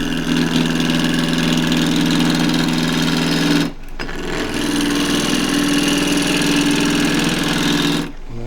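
Wood lathe spinning a cross-grain piece being cut with a spindle gouge, a steady loud motor-like hum with a continuous tonal drone, briefly dropping out twice.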